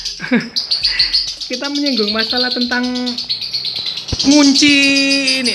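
A caged lovebird chirps close by in loud, rapid trills and sharp tweets that continue steadily, with someone talking under and between the calls.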